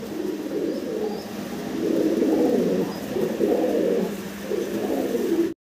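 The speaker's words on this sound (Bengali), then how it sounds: "দেখেন 3 ফেদার 4 ফেদার বয়সের কবুতর ব্রিডিং মুডে আছে" Several fancy pigeons around three to four feathers old, in breeding mood, coo in repeated low throaty rolls, steady and close, with no talk over them.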